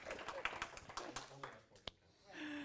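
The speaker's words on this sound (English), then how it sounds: "Everybody, round of applause." A small group at a university game-development club meeting claps briefly and unevenly, a handful of scattered, fairly close hand claps that fade out within about two seconds.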